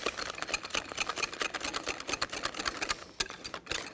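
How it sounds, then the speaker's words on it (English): Honey is whisked in a bowl, rapid rhythmic clicking and scraping strokes close up, steady and busy throughout. "Let's go ahead and just whisk this a little bit more."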